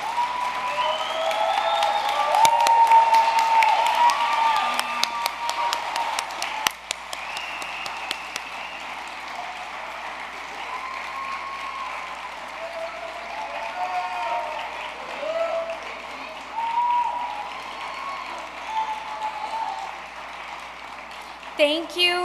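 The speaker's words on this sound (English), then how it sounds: "Let's give these students a round of applause." Applause at a World Language National Honor Society student induction ceremony, clapping strongest in the first several seconds then thinning out, with voices and murmured talk carrying over it through a roomy hall.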